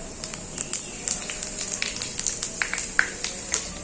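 Eight dried red chillies, a bay leaf and a pinch of five-spice sizzle in hot oil, a soft continuous fry crackle with irregular small pops, alone without talk.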